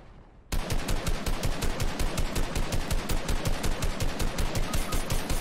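Rapid automatic gunfire in the Fortnite video game, a loud sustained burst of evenly spaced shots firing continuously after a brief quiet start, close and dominant with no voices over it.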